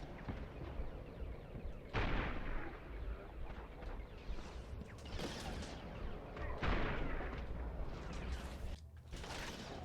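Gunfire from a sniper rifle and other weapons in the shooter video game Resistance: Fall of Man, with several loud sharp shots and booms spread over continuous dense battle noise.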